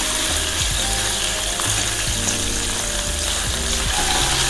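Prawns frying in a pan over a gas flame, a steady dense sizzle and crackle with small ticking pops running throughout, close and continuous, no voices.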